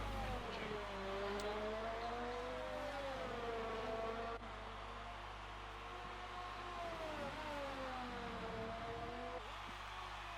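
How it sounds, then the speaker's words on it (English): McLaren Formula 1 race car engine revving on track, a steady high-pitched whine with rising and falling pitch sweeps as it changes gear, loud and continuous, with faint talk underneath. "Let's go take a look at Jamie in the McLaren"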